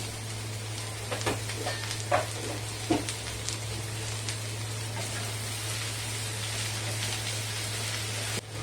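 Green chillies and onion frying in a pan for an okra and potato stir-fry, a steady moderate sizzle with a few sharp stirring clinks early on over a low electrical hum.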